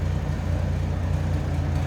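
A 1967 Chevrolet C10 with a 250 inline-six running with a slight exhaust leak, a steady low rumbling idle heard close and alone, even and unbroken throughout.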